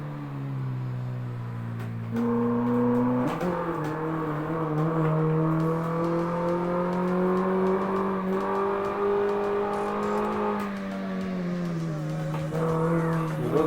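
Doğan SLX car in the Assetto Corsa racing game, driving along the Şile road: a steady, loud engine drone rising and falling with revs through gear shifts, continuous and alone for the whole stretch.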